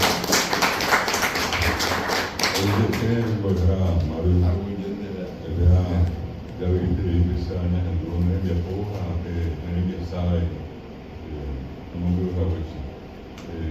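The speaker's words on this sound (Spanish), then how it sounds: "De nuevo un aplauso para Mario Rubén" An audience at a literary gathering in a writers' house claps for the author Mario Rubén. A dense round of applause opens and lasts a couple of seconds, then gives way to a speaker's voice with music underneath.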